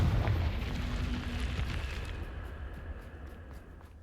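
A Confringo spell explodes in Hogwarts Legacy as a loud, sustained fiery burst. The roar starts right away, then slowly thins and fades out over several seconds.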